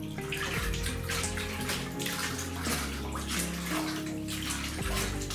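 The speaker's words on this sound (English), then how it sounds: "when I move my hand slowly through the water, which represents a very low frequency, the waves get larger and taller until they spill out of the tub" Water sloshing and splashing in a tub as a hand moves slowly through it, building larger waves; a steady, continuous washing sound close by, with no voices.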